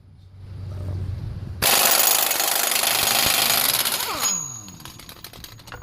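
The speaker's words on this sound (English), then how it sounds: "that's a DeWalt air gun" A DeWalt air impact gun hammers off the front axle nut of a Honda Accord during a wheel bearing job, a loud, continuous rattling burst close by that follows a quieter hum, then winds down to a spinning whine.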